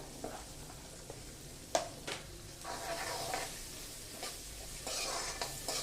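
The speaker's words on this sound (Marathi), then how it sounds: "कांदा पहिल्यांदा छान परतून घ्यायचा." Onion frying in a pan for a mixed vegetable sabzi: a faint, steady sizzle with occasional scraping stir strokes and small clinks, no talking.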